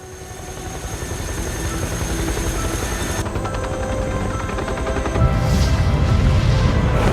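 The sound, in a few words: helicopters in a video game trailer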